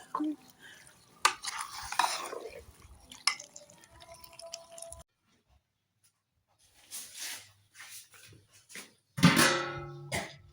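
Peas and potatoes are stirred in a pot, with bursts of spoon clinks and scraping against metal separated by a stretch of near silence, then a louder clattering stir at the end.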